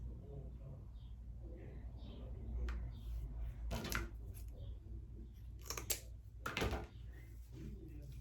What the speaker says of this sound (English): cut some more pipe cleaners